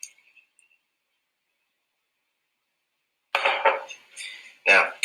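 A cooking pot being lifted away and set back down, a brief soft clink at the start, then silence, then a few close, bright clattering knocks of the pot being handled and placed, with no talking.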